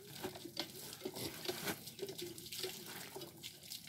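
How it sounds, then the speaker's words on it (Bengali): Clean water gushes and splashes from a newly installed tubewell pump in rural Bangladesh, a soft steady flow with irregular sloshing pulses and no talk. "বৌমা একেবারে পরিষ্কার পানি বার করছে ইনশাল্লাহ।"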